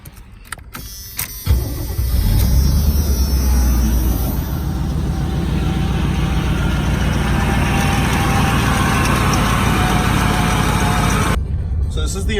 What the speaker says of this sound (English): For a 28-year-old van, she still runs.